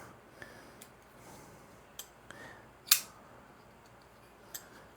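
A Ruike D712-T folding knife flips open with one crisp snap of the blade, quiet and close, set among a few faint small ticks and handling clicks.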